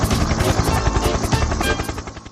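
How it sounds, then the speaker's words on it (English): A helicopter buzzes loudly as it hovers waiting to land at an airfield near a harbour, its rotor making a steady, dense, rapid chopping throb throughout. "there was a helicopter buzzing loudly as it waited to land."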